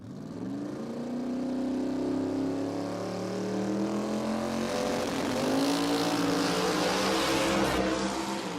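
A Coyote-engined drag race car makes a run at Willowbank Raceway in Australia, its loud engine note climbing steadily as it accelerates and holding a sustained roar with no talking.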